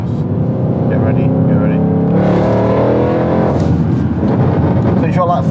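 A supercharged 750bhp Mercedes C63 accelerates hard, its loud engine roar rising in pitch as revs climb, heard from inside the cabin with people talking over it.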